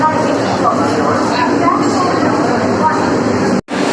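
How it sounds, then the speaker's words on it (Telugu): A Vande Bharat express train arrives at a busy station platform with a loud, steady rolling rumble and a faint whine. A person talks over the sound, and it cuts out briefly near the end. "మన ప్లాట్ఫామ్లోకి అయితే వందే భారత్ ట్రైన్ అయితే వచ్చింది."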